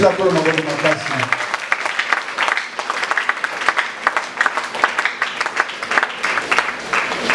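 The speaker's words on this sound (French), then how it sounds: "Acclame très fort pour le Seigneur" A church congregation at a Sunday service breaks into loud, sustained applause for the Lord, with dense rapid clapping and some cheering voices mixed in throughout.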